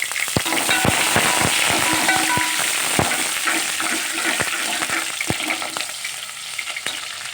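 Chopped onion sizzles and crackles loudly in hot oil while a spatula stirs and scrapes the pan, with sharp pops scattered over a steady frying hiss.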